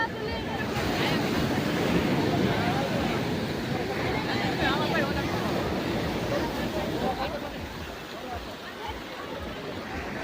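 Large sea waves break on the shore in a continuous heavy roar, loud and close, during a Ganesh idol immersion outing, with wind buffeting and people talking and a crowd murmuring underneath.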